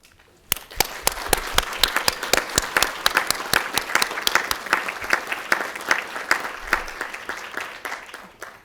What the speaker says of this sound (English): Please give our graduates another round of applause